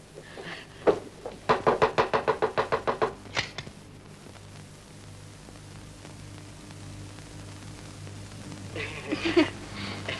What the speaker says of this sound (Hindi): वो तो बाथरूम का दरवाजा खटखटा रही है